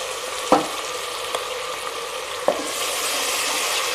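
Garlic ginger paste fries with light-brown onions in a pan for dhaba-style daal, a steady soft sizzle broken by a few sharp clinks of a spoon stirring, with the hiss growing louder toward the end.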